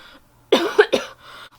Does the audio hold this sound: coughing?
yes